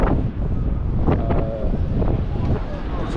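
Strong wind buffets the microphone on a seaside town street, roaring and gusting continuously at close range with no pause.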